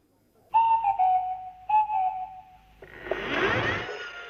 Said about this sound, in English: reading those peculiar sounds of the Swanee whistle